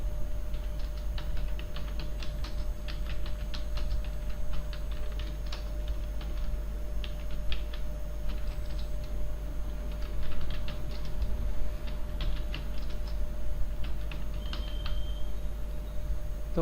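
Student names typed on a computer keyboard, steady quick keystrokes pattering continuously over a loud low hum, close and clear with no speech.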